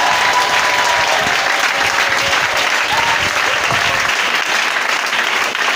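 A church congregation gathered for an Easter seminar applauds the Lord, sustained dense clapping from a large crowd filling the room at steady loudness from start to finish.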